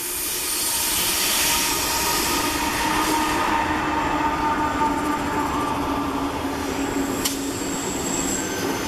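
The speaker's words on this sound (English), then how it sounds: "Yeah, the train's coming. We got out of there just in time." A train rumbles past near Yale, British Columbia, a loud, steady roar of wheels and cars rolling along the rails, with a high wheel squeal running through it and a brief sharp clank late on.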